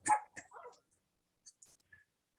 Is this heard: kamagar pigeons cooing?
no